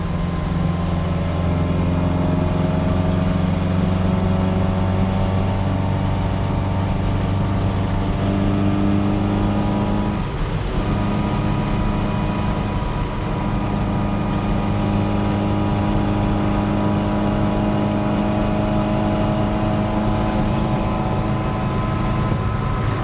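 A Super 998 engine runs loud and close with a steady low idle drone, its pitch shifting as it is revved around the middle, continuous throughout without talk.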